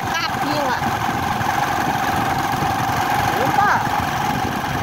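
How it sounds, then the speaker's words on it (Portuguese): Motorcycle engine humming steadily while riding along on a rural trip, a constant droning rumble with wind, as voices call out briefly over it. "A gente tá vindo de moto"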